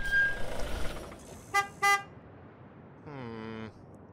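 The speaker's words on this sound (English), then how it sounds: "Stop and honk. Hopefully it'll stop." Two short car horn honks in a zombie apocalypse video game, followed by a longer, lower horn blast, all fairly loud over quiet game background.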